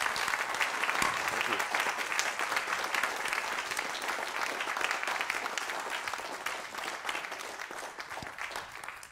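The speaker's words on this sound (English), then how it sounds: "Let's give him a big round of applause." A large audience at a talk gives sustained, dense applause, a steady wash of many hands clapping at even loudness from start to finish.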